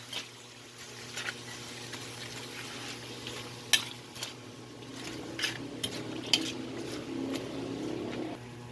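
Food frying in a pan with carrots being stirred: quiet, steady sizzle with occasional utensil clinks and scrapes against the pan, growing slightly fuller toward the end.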